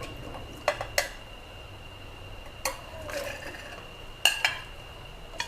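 Bananas go into coconut water in a cooking pot, heard as scattered clinks and knocks of utensils against the pot, quiet and close over a faint steady hum.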